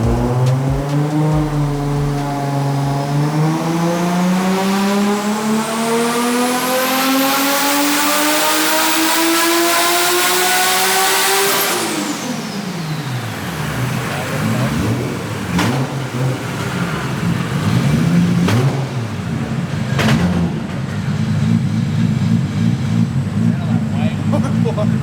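Nissan R32 GT-R tuned to around 800 horsepower on a dyno, boost raised, engine revving in one long sweeping pull climbing steadily to a loud high-pitched scream, then dropping off to a lumpy idle with a few sharp pops and crackles.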